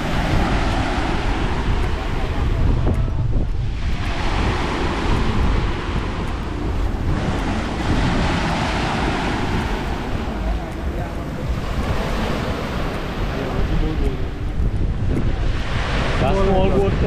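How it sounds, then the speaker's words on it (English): Sea waves wash and surge along the shore at Chaguaramas in Trinidad and Tobago, a continuous rough roar buffeted by heavy wind noise on the microphone, with people talking over it. "We started to get some waves there."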